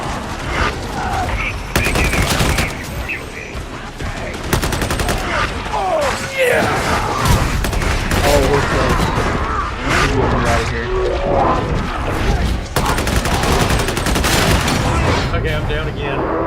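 Gunfire in an online multiplayer video game, with repeated bursts of loud shots and explosions close by, while players talk excitedly over the action.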